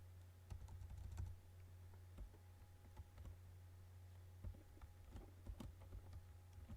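Keys on a computer keyboard with some oddly behaving keys are typed while entering figures into payroll software. The keystrokes are faint and irregular, in small bursts of clicks over a steady low hum, with no speech.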